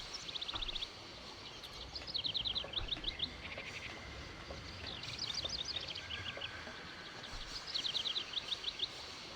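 Birds chirping in the video game Syberia: repeated quick runs of high, thin tweets in short phrases, soft against a steady hissing ambient background with no talk.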